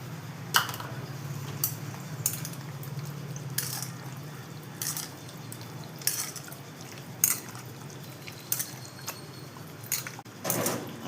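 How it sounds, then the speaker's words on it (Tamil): A spoon works sour-free yogurt into raw chicken pieces in a bowl, wet squelching strokes broken by sharp clinks of metal against the bowl every second or so, over a low steady hum. "இதை போட்டு நல்லா இந்த கறியில் கோட்டாகிற மாதிரி மிக்ஸ் பண்ணி விட்டுருங்கம்மா"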